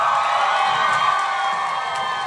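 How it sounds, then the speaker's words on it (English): Crowd at a state fair stage show cheering and applauding, a loud, steady wash of voices and claps with whoops rising over it. "let's give another round of applause for Sue Price."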